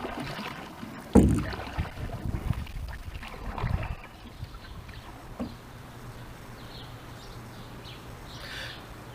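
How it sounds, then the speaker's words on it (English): Paddling sounds from a canoe out on open water, with soft splashes and a louder knock early on, then a quiet stretch of water and light wind noise. "Now that was my canoe trip last fall."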